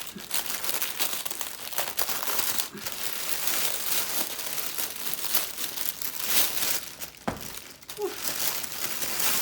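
Paper wrapping crinkles and rustles close up as fabric fat quarters are unwrapped, with irregular crackling bursts and a few sharper tears over several seconds.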